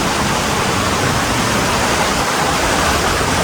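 Fast-flowing stream water at a bathing spot near a campsite, a loud, dense, unbroken rush filling the whole clip, with no voices.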